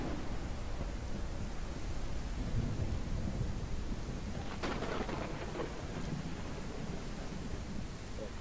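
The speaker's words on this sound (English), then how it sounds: "Great, it's absolutely stormy weather." Stormy weather in the space game Spacebourne 2: steady rain and wind hiss fill the whole span, with a sharp thunder crack near the middle that rumbles off, and no voices.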